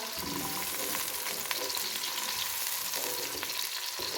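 Sliced onions, turning lightly brown, fry in oil with a loud, continuous crackling sizzle that stays even from start to finish.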